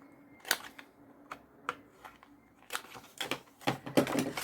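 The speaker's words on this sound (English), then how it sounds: "And I'm going to round these corners too." A handheld corner rounder punching the corners of a paper card, a series of sharp, separate clicks and snaps spaced irregularly, close and fairly crisp, with faint handling rustle between.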